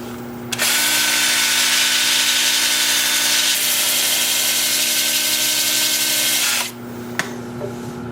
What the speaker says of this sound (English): And I'm going to start sanding in reverse.